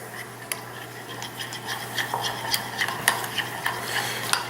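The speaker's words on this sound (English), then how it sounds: "We're going to mix all this together." A mustard sauce for a shrimp po' boy being mixed in a bowl, with close repeated scraping and light clicking of a utensil against the dish over a steady low hum.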